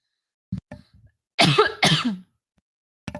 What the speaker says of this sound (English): I muted myself because I had to cough